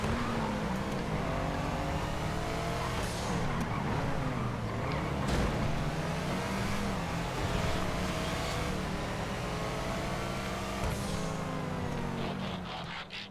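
Race cars in a GTA FiveM game race driving past and revving, engines sweeping up and down under constant loud traffic noise with several cars close by throughout.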